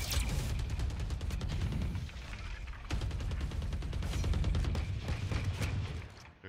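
A flashbang grenade goes off in a competitive video game match, followed by dense, rapid bursts of gunfire-like cracks that stay steady and loud throughout.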